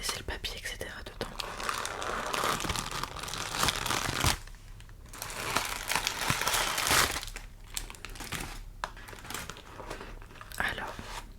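Paper from Louboutin shoe packaging crinkles and rustles in close, soft bursts right at the microphone, with brief pauses between handlings, under a quiet whispered voice.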